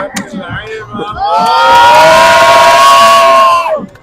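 A crowd waiting for mango ice cream at a North Coast beach stall in Egypt. Scattered voices give way to a loud, sustained collective shout or cheer that swells and holds for about two seconds before cutting off.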